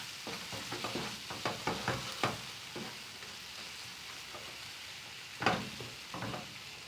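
Mutton fry with pepper powder stirred in a pan, a quick run of scraping strokes at first, then a quieter sizzling stretch and a louder scrape near the end, all over a soft frying hiss with no talking.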